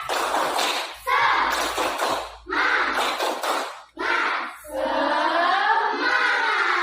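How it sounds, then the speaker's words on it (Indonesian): Schoolchildren at an elementary school perform a rhythmic 'tepuk semangat' chant, their loud group voices and claps coming in short bursts separated by brief pauses, with a sustained chanted phrase at the end. "kita mulai dengan tepuk semangat."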